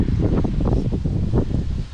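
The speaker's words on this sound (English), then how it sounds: "Wow guys, it's so windy today. Extremely windy." Strong wind in a backyard garden in Australia roars steadily against the microphone in a continuous low buffeting rumble, with no voices.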